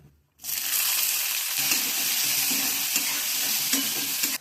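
Chopped onion drops into hot oil with cardamom and cloves for soyabean dopeaza, bursting into a loud, continuous sizzle after a brief quiet start, with stirring scrapes underneath.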